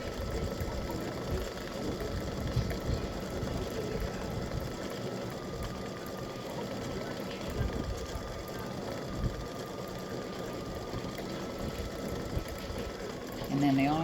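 An embroidery machine stitches a red crown design, humming and clattering steadily and continuously at moderate volume, with a faint voice talking underneath.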